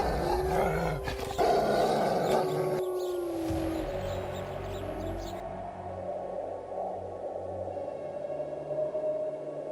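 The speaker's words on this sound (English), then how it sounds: "a long rising howl pierces the icy valley below" A wolf howls across a snowy, icy Alaskan valley, long drawn-out tones sliding in pitch, with a low growling rumble and dramatic background score underneath.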